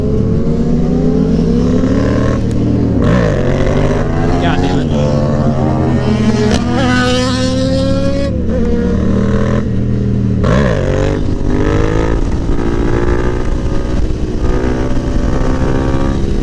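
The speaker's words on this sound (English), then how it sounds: "I've got all of these bikes that are making noise." Several motorcycle engines rev loudly and continuously up close, pitch rising and falling as throttles open, with a man briefly cursing over the noise.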